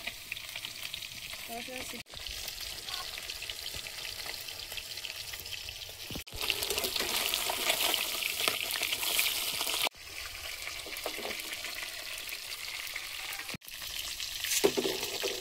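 Small fish fry in hot oil with a loud, steady close sizzle that surges and drops in a few sections, with no talking.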